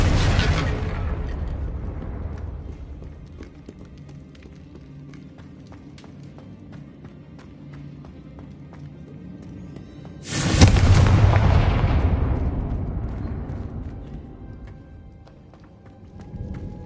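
Two booming blasts of the Confringo explosion spell in the Hogwarts Legacy video game, each a sharp loud burst decaying over a couple of seconds, the second arriving about ten seconds after the first.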